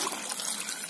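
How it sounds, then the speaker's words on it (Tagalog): Water trickling and pouring into a cooking pot while preparing Filipino ginataang gulay outdoors on a farm, a steady splashing dribble lasting under a second, close and fairly loud with no talk. "Lagyan na natin ng tubig."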